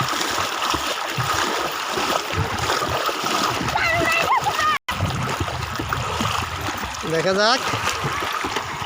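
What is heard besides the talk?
splashing of contestants swimming in water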